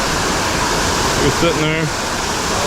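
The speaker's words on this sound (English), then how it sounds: "right here under the waterfall" A creek waterfall roars as a constant broadband rush close by, while someone speaks briefly over the steady water noise.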